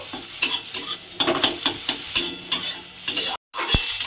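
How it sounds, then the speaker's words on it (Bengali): Egg frying in oil in a pan, broken into small scrambled pieces, sizzles steadily while a utensil stirs and scrapes in regular strokes, with a brief dropout near the end; no one talks. "দিয়ে ডিমটাকে প্রথমে যেভাবে ডিমের ভুজিয়া বানায় সেইভাবে ছোট ছোট করে ডিমটাকে আমি এইভাবে ভেজে নেব।"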